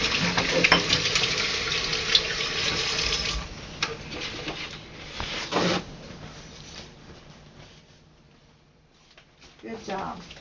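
Water runs from a kitchen tap as apples are washed for a fresh apple cake, a hissing stream that is steady at first, then sputters and fades, with people talking over it.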